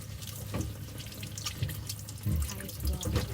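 A stick of celery is rinsed under a running kitchen tap: a steady close stream of water with splashing surges as the stalk moves through it, and a voice briefly audible in the background.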